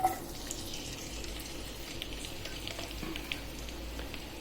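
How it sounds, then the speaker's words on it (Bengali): Onion, garlic, green chili and shrimp frying in hot oil in a pan make a steady, close sizzle with faint crackles throughout, with no voices. "এবার কেটে রাখা পেঁয়াজ, রসুন, কাঁচামরিচ আর চিংড়ি মাছ দিয়ে দিচ্ছি।"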